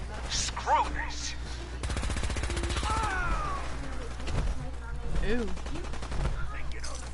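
Rapid automatic gunfire in Fallout 4, a dense run of quick shots in the middle with scattered bursts around it, under a player's voice and exclamations.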